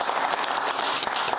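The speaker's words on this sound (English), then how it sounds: "Big round of applause." A studio audience on a television talk show gives brisk applause, a dense, even burst of clapping at close range lasting just over a second, with no voices over it.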